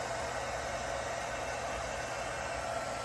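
A heat gun blows on an alcohol ink epoxy tumbler in a cold room, giving a constant, even whooshing roar of hot air that holds unchanged from start to finish, close and steady.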